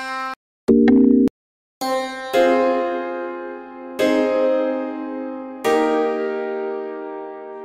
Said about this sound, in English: use a nice piano.